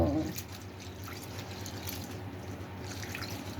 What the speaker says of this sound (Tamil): நல்லா தண்ணி ஊற்றி கழுவிட்டு ஊற வச்சிடலாம்